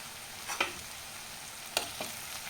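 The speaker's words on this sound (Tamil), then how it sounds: "தக்காளி புளியும் வதக்கலாம்." Tomato and tamarind sautéing in a pan for onion chutney give a faint, steady sizzle with a few soft stirring scrapes.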